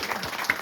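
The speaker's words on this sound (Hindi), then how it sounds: "हम लोग ताली बजा के हम लोग धन्यवाद कहेगा" Members of a society stand and clap together at a final salvation meeting, a short burst of dense, steady applause from the group without any talk.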